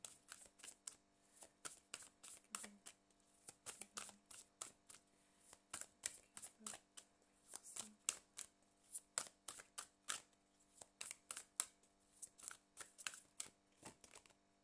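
Tarot cards are shuffled for a reading in a series of faint, close riffling bursts that repeat at an irregular, quick rhythm, with no talking.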